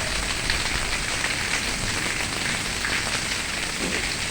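Dense, steady downpour of heavy rain hitting surfaces nearby, a constant hiss without pause.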